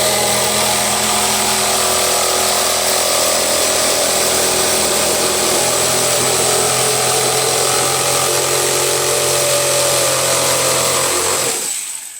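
An old power saw cuts a DIY door panel for a Ford Ranger truck project, with a loud, steady, continuous whine and roar that runs unbroken for about eleven seconds before stopping abruptly.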